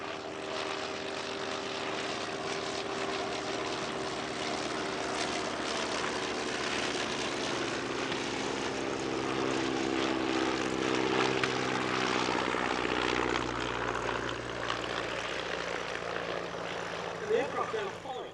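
An original SE5A biplane flies past at an airshow, its propeller engine a steady droning roar that swells slightly as it passes, with a rising and falling pitch and a narrator talking over it throughout.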